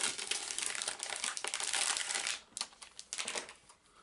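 A cheap plastic bag from a 2021 Anker Play Who Am I? board game box crinkles close up, with crisp, irregular rustling bursts, quieter toward the end.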